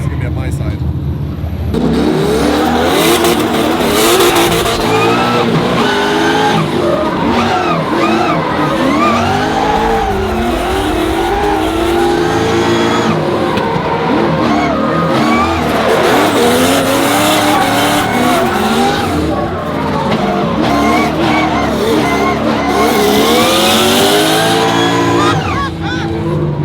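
Drift cars at Yas Marina Circuit in the UAE, with tires squealing and skidding while engines rev hard and continuously, loud and close, with a driver talking over the din throughout.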